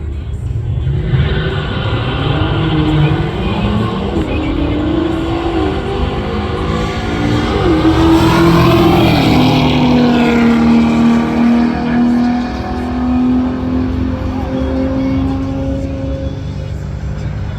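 A drag racing car accelerating hard down the strip, a loud sustained engine roar whose pitch climbs and shifts through gears, heard close and continuous.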